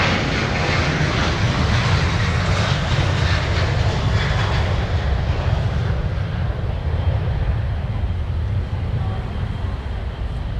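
An Amazon Prime Air jet departing from Minneapolis–Saint Paul airport, a loud, sustained roar of engines at full power that holds steady and then slowly thins as it climbs away.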